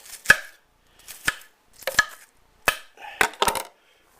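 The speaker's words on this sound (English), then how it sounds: "I cut them this way to make them small chunks. And do that with 2 big onions." A knife chops onions into small chunks on a board with about six crisp, separate thuds, some in quick pairs, spaced by short silences, close and clear, with no talking.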